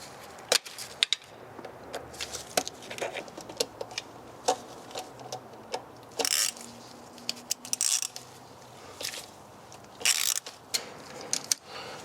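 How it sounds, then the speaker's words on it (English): A hose clamp on a Mercedes 380SL fuel line is tightened by hand, giving close, quiet ratcheting clicks and scrapes in irregular bursts, with a few louder rustling handling noises and no talking. "let's tighten up that goofy clamp"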